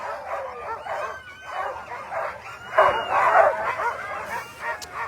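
Sled dogs yip, whimper and bark excitedly at the start of the Willow 300 mid-distance sled dog race, a steady overlapping chorus of many dogs at moderate distance, swelling louder midway.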